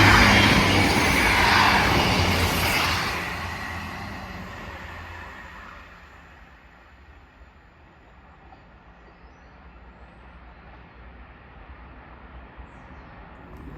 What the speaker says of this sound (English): Train now passing through. 1158 going to Liverpool.